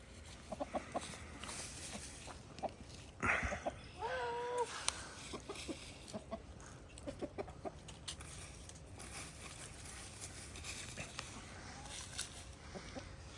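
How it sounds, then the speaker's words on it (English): Hens cluck softly and intermittently in an outdoor run, scattered short calls with one louder squawk partway through, over a quiet, steady background. "See what these chickens get up to up here."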